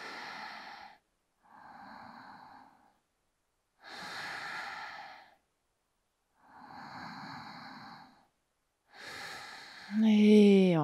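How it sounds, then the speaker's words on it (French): Five slow yoga breaths alternate in and out, each a soft airy rush lasting about a second with short quiet gaps between, close and fairly quiet, followed by a brief spoken voice at the end. "Et là aussi 3 respirations."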